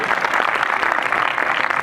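An audience applauds after a magic show, a dense, steady wash of many hands clapping throughout with no voices standing out.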